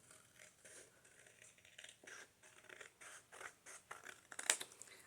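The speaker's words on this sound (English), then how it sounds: "I am going to cut off this fold." Scissors cut through a paper fold in a junk journal, making a quiet run of close, rhythmic snipping and crunching strokes that grow slightly louder toward the end, with no voices.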